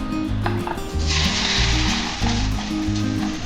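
Bitter gourd pakora, coated in batter and egg, frying in hot oil with a loud, continuous sizzle that swells after the first second, over a steady low hum.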